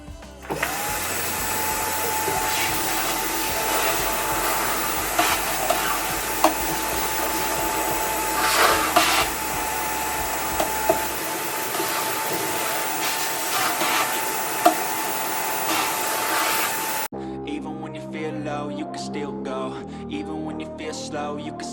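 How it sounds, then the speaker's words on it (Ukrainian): A vacuum cleaner runs loud and steady with a constant whine for most of the clip, then cuts off and music takes over. "вімкну пилосос"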